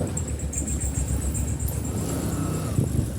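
A car on a village road in Netrokona, Bangladesh, heard as a steady low engine rumble throughout, fairly close and continuous, with a faint high whine above it.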